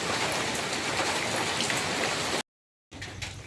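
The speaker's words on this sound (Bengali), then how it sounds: "দেখো দেখছো বৃষ্টি কেমন ভাবে পড়ছে" Heavy rain pours steadily onto surfaces in a broad, loud hiss with no letup, cut by a brief silent gap before the downpour resumes.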